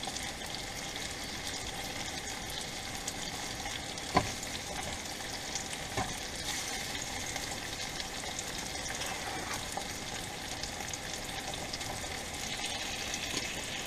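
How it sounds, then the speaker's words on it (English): Refried beans heating in a pan inside an RV kitchen give off a steady, quiet sizzle and hiss, with a single faint clink partway through and no talking. "Going to try to heat some of these refried beans right up in the pan."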